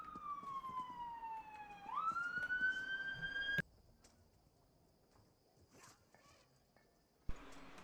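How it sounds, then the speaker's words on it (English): An ambulance siren wails from a distance, its tone sliding down and then jumping up again before it cuts off abruptly, followed by quieter background and a short sharp knock near the end. "Sorry, ambulance in the distance there."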